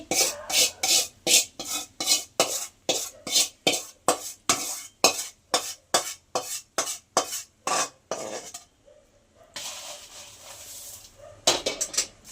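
Spiced puffed rice (borugulu) is stirred in a pan with a spoon, about twenty rhythmic scraping and rustling strokes, then a brief pause with a softer rustle before the scraping resumes.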